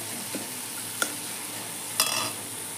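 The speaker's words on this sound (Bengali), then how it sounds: "আমি আলু ভাজাতে দিচ্ছি" Potatoes fry in a pan for a home-style mushroom curry, a steady close sizzle broken by a few short scrapes of stirring, with no talking.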